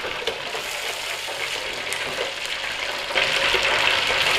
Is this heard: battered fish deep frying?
yes